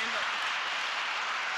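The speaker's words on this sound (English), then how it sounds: "we give my dad a round of applause" Brief burst of applause at a school awards ceremony, a dense, steady wash of clapping that fills the short moment, with voices faintly mixed underneath.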